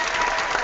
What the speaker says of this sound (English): But it's canned applause.